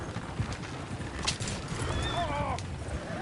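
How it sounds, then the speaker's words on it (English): Horses in Red Dead Redemption 2 whinny and neigh in a couple of high calls near the end, over steady hoof clip-clop and busy game ambience, with no talk. "Oh, shit, the horses!"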